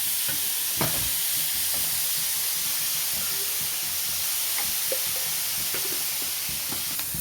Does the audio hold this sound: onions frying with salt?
yes